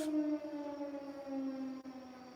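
Air raid sirens wail outdoors with a steady, sustained tone that holds throughout, fairly faint and distant, with no talk over them.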